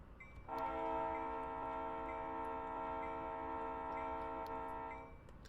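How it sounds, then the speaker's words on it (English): A locomotive horn sounds as a freight train approaches a whistle board in a train simulator game, one long steady chord held for about four and a half seconds over faint ticking. "And we're going to start blowing this whistle."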